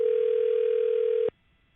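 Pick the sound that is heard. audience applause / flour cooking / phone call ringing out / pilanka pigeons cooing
phone call ringing out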